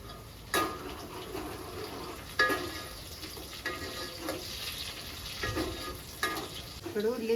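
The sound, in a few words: onions frying in a pan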